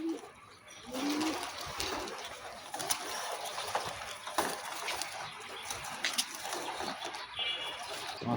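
Racing pigeons at a pigeon club loft coo softly and repeatedly, fairly close, over a hushed outdoor background with occasional faint knocks and rustles.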